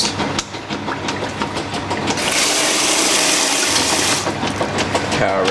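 Water pours into the tub of a 1996 Whirlpool washing machine, a loud steady rushing fill with a rumbling motor hum and some clicking, swelling then easing, close by.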